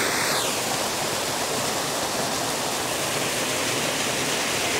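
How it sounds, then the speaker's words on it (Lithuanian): Hot spring water flows into a river at Taupo, New Zealand, making a steady, dense rushing wash close by that runs unbroken throughout with no voices. "Matosi, kad labai karštas vanduo bėga"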